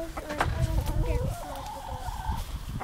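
Chickens cluck and murmur inside a backyard chicken coop, close by, with short rising and falling calls over a low rustling background and faint voices.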